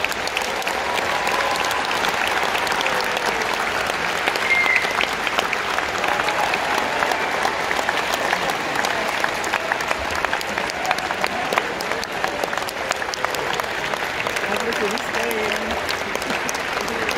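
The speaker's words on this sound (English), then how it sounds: "round of applause." Graduates at a Flinders University graduation ceremony in Adelaide give their guests a long, steady round of applause, a broad wash of many hands heard from within a large hall, with faint murmuring voices underneath.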